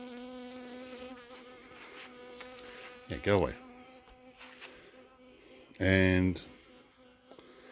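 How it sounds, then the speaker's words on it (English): A single bee hums steadily close by beside a backyard beehive, its drone continuous while someone speaks briefly over it twice. "let this bee just follow me for a while"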